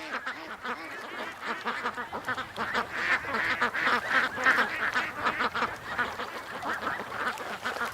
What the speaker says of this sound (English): There is ducks everywhere, guys.